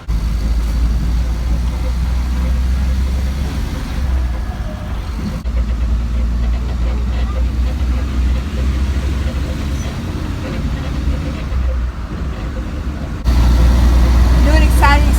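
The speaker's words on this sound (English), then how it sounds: "And now we're going to get on a bus." A bus engine idles in Oaxaca, a steady low rumble that holds throughout the ride's start and grows slightly louder near the end, with traffic noise around and people talking over it.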